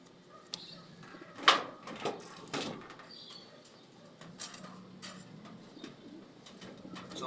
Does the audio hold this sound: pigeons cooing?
yes